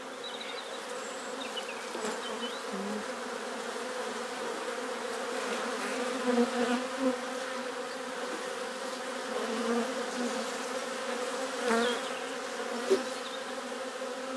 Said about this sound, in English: Calm the bees down because they were really angry.